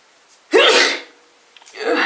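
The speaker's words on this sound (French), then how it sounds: "Pourquoi je vais encore éternuer?" A single loud sneeze, brought on by pollen, close to the microphone, followed by a brief pause and then a breathy exhale or sniff.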